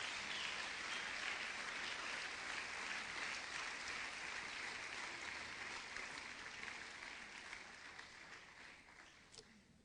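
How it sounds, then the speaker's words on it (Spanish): A church congregation claps together as an offering to the Lord, a dense, steady wash of applause that slowly fades over about ten seconds, with no clear voices above it. "Dele una ofrenda de palmas al Señor bendito de gloria."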